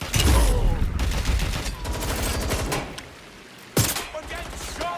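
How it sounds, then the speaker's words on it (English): Gunfire in Watch Dogs Legion: a loud opening volley of rapid shots, followed by scattered bursts, a short lull and another sharp crack, amid busy game combat noise. "I'm getting shot at here."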